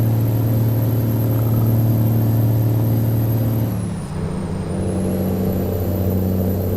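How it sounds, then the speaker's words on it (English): Peterbilt 389 truck engine in American Truck Simulator, a steady deep diesel drone with a constant high whine, dipping briefly as the revs ease off and then settling back, with no one talking. "You can have different truck sounds, more realistic truck sounds"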